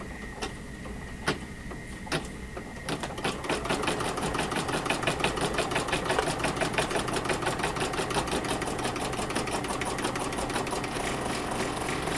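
An embroidery machine stitches appliqué onto a bag held in the hoop, its needle running in a fast, steady mechanical rhythm after a few isolated clicks at the start, close and continuous to the end.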